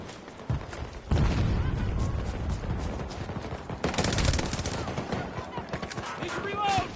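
Light machine gun fire in Battlefield 2042 Rush mode, sustained rapid bursts starting after a second and continuing in loud rattling streams mixed with other battlefield gunfire, with game voices speaking underneath.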